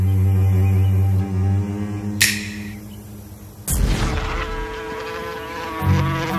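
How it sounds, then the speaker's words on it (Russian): A buzzing fly in a Norse myth tale of Thor and Loki drones steadily, loud and close, with whooshing swells and background music beneath it. "Он вернулся в виде мухи"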